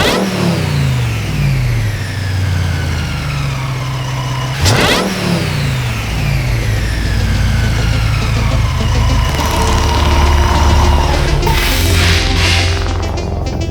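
The engine of a Hennessey TRX Mammoth 1000 truck runs loud and close for the whole stretch, a deep steady rumble with a brief blip and a couple of rising revs near the end, no talking.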